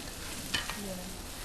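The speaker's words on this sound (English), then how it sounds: "Now this is a nice sizzle, it's not too loud" Food sizzles gently while frying in a pan during a Peranakan cooking demonstration, a steady soft hiss with a brief stir or scrape midway, no speech over it.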